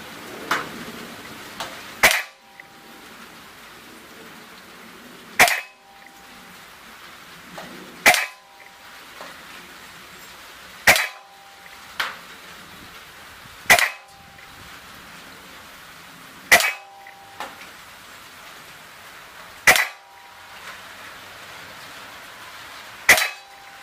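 An Umarex Beretta CX4 Storm air rifle fires in a field test, eight or nine sharp, crisp shots spaced a few seconds apart, each a short snap standing alone against quiet outdoor background.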